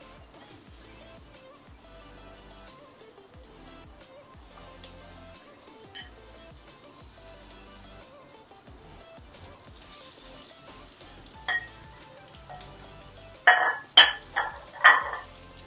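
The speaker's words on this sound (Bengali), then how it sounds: "এবার একটা একটা করে পটল আমি ছেড়ে দিচ্ছি তেলের মধ্যে।" Pointed gourds (potol) go into hot oil; a faint low sizzle runs quietly for a long stretch before sharp bursts of crackling spit out near the end as pieces hit the pan.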